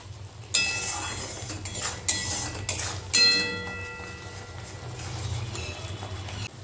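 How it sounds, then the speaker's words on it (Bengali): Prawns mixed with salt and turmeric in a metal pan, several sharp clinks and scrapes of a spoon against the pan over a faint background hum, with no talking. "আর লবণ হলুদটা দিয়ে কিন্তু খুব ভালো করে মিশিয়ে নিতে হবে।"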